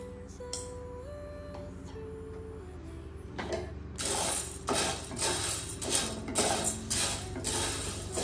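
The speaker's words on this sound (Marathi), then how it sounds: "आपण इकडे साबुदाणा जो आहे तोही व्यवस्थित भाजून घेऊया।" Sago pearls (sabudana) being dry-roasted and stirred in a pan, heard as a steady run of scraping, rattling strokes that starts after a few seconds over soft background music, with no talking.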